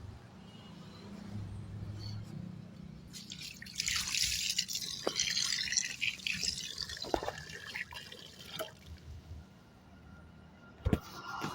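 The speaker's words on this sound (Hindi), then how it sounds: "अब सबसे पहले हाथ मुंह धो लेते हैं" Tap water running and splashing during hand washing at a gurdwara entrance, a steady close trickle that grows louder and more splashy midway, with faint background voices.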